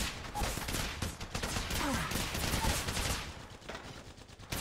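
Dense, rapid automatic gunfire in the mobile game Apex Legends Mobile, loud and continuous bursts filling the whole stretch with hardly a pause.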